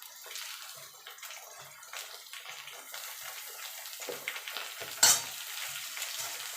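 Vegetables lightly frying in a wok as they are stirred, a close, steady crackling sizzle with spoon scrapes and a sharper clatter midway.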